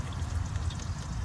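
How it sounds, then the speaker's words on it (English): Water poured into a pot of grits, a steady close splashing pour lasting about a second with no talk over it. "All I have to do is add water to them and keep them stirred up."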